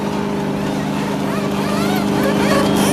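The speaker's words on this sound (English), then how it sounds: "You hear him put the RPMs up." A NASCAR race car in the pits during 2003 Winston qualifying holds a loud, steady engine drone that swells slightly toward the end, with a busy, noisy background.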